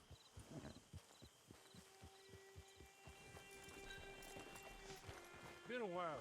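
Horse hoofbeats in Red Dead Redemption Online, a steady clip-clop of trotting hooves near the camp, heard under talking and game music, with a neigh near the end.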